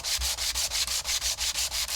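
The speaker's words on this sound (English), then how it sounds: "Much easier to sand this board." Rhythmic scratchy sanding strokes with a sandpaper block on wood, about eight quick back-and-forth passes, close and steady with no voices.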